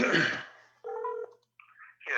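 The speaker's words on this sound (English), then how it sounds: "So let's call Bill." Telephone dialing a number for a real estate cold call: a short burst of noise, then a clear steady electronic dial tone and brief tonal beeps of keypad dialing, close and fairly quiet, with a voice starting at the end.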